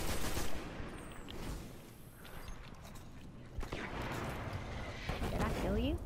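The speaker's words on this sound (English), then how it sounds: "As soon as I look at it, it starts shooting at me." Enemy gunfire in the Destiny video game, a dense, loud barrage of rapid shots and blasts that runs continuously through the whole stretch.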